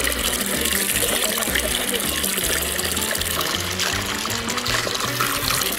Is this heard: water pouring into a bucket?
yes